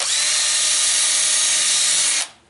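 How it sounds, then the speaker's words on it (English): A power drill with a 1/4-inch bit bores holes for jet-pack foot straps, a steady high whine running continuously for about two seconds, close and loud, before cutting off abruptly. "just drill all 4 holes"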